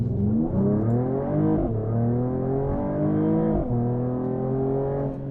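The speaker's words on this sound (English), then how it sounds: "nice reverb from the exhaust" A 2021 Mercedes-AMG E 53 Coupe engine revs up through the gears, its exhaust droning and rising in pitch, dropping briefly at each shift before climbing again.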